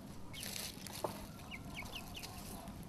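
Free-range hens roaming meadows on a small farm cluck softly in short bursts over a steady outdoor background, fairly distant and faint.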